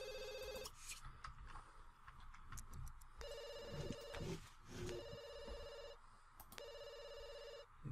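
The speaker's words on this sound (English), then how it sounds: "answer the phone when you're done" Telephone ringing in The Sims 2 video game, repeated trilling bursts of bright bell-like tone separated by short gaps, with game music and clatter underneath; no one speaks.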